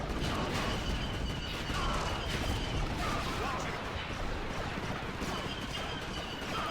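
Turret gunfire in a Star Wars Battlefront 2 battle on the Tritia Desert Ruins map, a dense, continuous barrage of blasts and explosions with a busy combat din throughout and no clear gaps.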